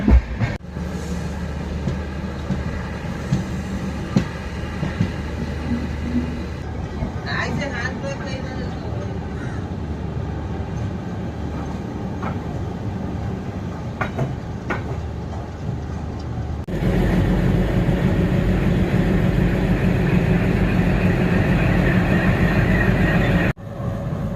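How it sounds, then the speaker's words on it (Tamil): WDG-3A twin diesel locomotives haul the Pothigai Express along a single line, heard as a steady rumbling train ride with rolling wagon noise that grows louder and rougher partway through, under occasional talk. "அந்த டீசல் லோக்கோவில் ஜேர்னி பண்ணுறது ஒரு தனி சுகந்தன. அந்த சக்கிங் சவுண்டு, அந்த ஸ்மோக்கிங்கு"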